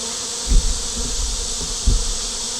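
A close, steady hum of honey bees buzzing at the hive on a hot day, many outside the hive, with two soft bumps or knocks briefly rising beneath the drone.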